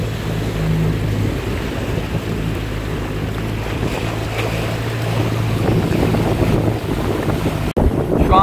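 A sailboat runs in strong 15-20 knot wind and 2 to 2.5 m waves off Patmos, with constant loud wind roar buffeting the microphone over rushing water and hull wash, plus a sharp knock near the end.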